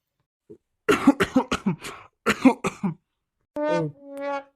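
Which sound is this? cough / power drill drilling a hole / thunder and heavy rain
cough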